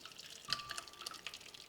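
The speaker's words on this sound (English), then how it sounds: "We're going to drain the water," Water from steeped Afghan tea leaves drips and splashes in small, irregular spatters as it is drained, with soft trickles close by and no talking.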